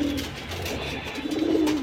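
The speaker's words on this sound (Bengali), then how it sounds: "এখন এক পেয়ার কবুতর দেখাবো ছাড়া লাইনের।" A breeding pair of domestic pigeons coos close by, soft throaty calls rolling on steadily through the whole stretch with no voices.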